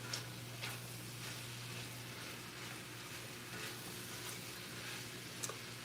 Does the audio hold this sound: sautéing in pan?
yes